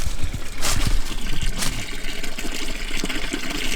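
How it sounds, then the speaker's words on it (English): Fresh spring water trickles and splashes steadily close by in a German forest, a continuous bubbling flow with a few brighter splashy bursts and no voices. "On my way back to the car, I found this source of fresh water."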